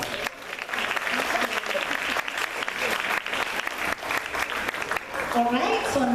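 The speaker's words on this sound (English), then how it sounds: "So let's welcome Isla with a round of applause." Audience at a live theater showcase breaks into sustained applause, dense steady clapping filling the whole stretch with a few voices mixed in.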